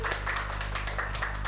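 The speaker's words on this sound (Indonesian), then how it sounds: "Ayo kembali kita beri tepuk tangan untuk beliau." Audience clapping for a guest at a school podcast recording, a short run of steady, moderately loud claps over a low background hum.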